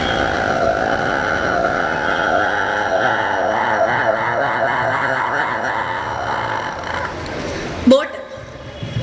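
A performer at a school arts festival mimicry contest vocally imitates a motorcycle stunt in a circus well of death, making a continuous wavering engine drone through a stage microphone, ending in a brief sharp burst.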